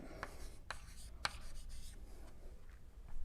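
Pen or marker writing out a math theorem, a few short scratchy strokes close by with faint room noise, no talking.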